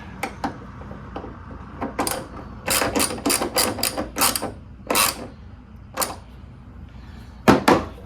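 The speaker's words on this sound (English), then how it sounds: "Go ahead and use my 10mm socket." A ratchet with a 10mm socket tightening a bolt on a Honda Element rear hatch, giving a run of quick, close, clicking strokes in bursts, with a few isolated clicks and pauses between.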